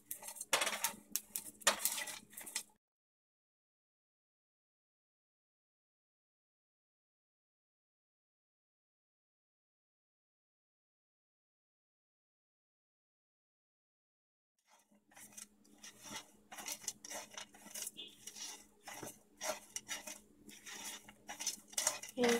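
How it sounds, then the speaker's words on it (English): Spices being dry roasted and stirred in a hot pan, producing quick metallic clinks and scrapes of utensil against the pan, close by, in two bursts with a long silent gap between them. "So the pan is hot and I'm going to add all of these. I'm going to roast it till I get a nice aroma of the spices."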